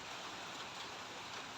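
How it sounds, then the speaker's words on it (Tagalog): Steady rain falls over a mountainside home, a continuous soft hiss of drops with no talk, even and unbroken for the whole short stretch. "So, umuulan na talaga."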